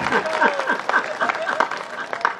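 A small audience at a Hindi comedy poetry gathering claps briefly, with scattered hand claps under a man's speech.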